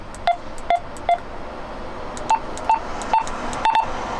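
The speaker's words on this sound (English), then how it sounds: "It's giving me that a couple of beeps there. That means it's already maxed out." Seven short, sharp electronic beeps from a truck push-to-talk radio microphone's volume button at maximum, three lower-pitched ones followed by four higher ones, close and clear against a quiet background.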